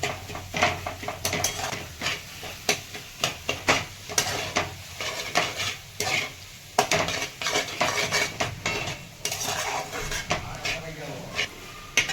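A spoon stirs and scrapes through egg bhurji in a pan, rhythmic metallic clinks and scrapes over a soft sizzle, close and fairly quiet.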